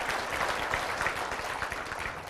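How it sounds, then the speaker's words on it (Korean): A church congregation applauds to welcome guests during a worship service: dense, steady clapping from many hands that fills the room without pause and has no talk over it. "여러분 박수로, 큰 박수로 환영해 주시길 바랍니다."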